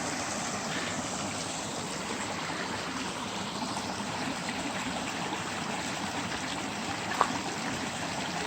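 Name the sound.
small mountain creek flowing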